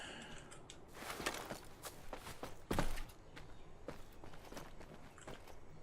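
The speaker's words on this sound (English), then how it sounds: "I hear footsteps." Footsteps in the online shooter Islands of Nyne: a steady run of soft, close steps with one louder thump partway through, over a low game ambience.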